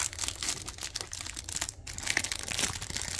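A plastic wrapper being torn open on a 2019 Topps Heritage baseball trading card hanger box, with close crinkling and tearing crackles in a quick continuous stretch and a brief pause midway.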